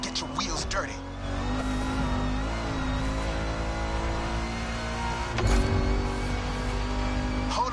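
Ford Mustang in the racing game MotorFest on a swamp track, engine droning and revving steadily at close range, with a louder thump near the end as the car lands.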